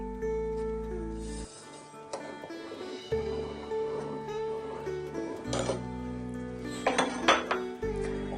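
Spoon stirring a sugar mixture in a cooking pot, repeated metallic scrapes and clinks against the pot over a steady background hum, louder clanks toward the end, with no talking.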